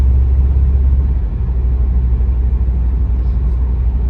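A 2007 Honda Accord with the 2.4 engine drives on an icy road with a misfire, giving a steady loud low rumble and road drone throughout, with no talk.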